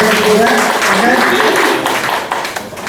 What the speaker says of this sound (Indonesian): mana tepuk tangannya untuk kandidat yang ketiga?